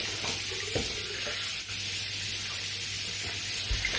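Face being washed at a running sink with minty face soap: steady tap water hiss and splashing throughout, close and continuous, with no talk.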